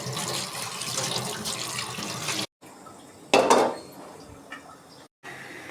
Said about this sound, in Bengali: এখন আমি সুন্দর করে পানি ছেড়ে দিয়ে হাতটা ধুয়ে নেব।